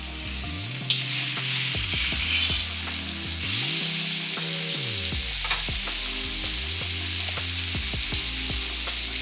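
Salmon fried rice sizzles steadily in a hot pan while a utensil breaks it up and stirs it, with scraping strokes and clanks against the pan running through the loud frying.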